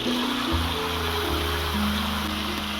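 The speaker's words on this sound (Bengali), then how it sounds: "এবারে অল্প একটু জল দিয়ে দেবো" Water poured into a cooking pot for a bottle gourd sour chutney, a steady close rushing, gurgling flow with no break.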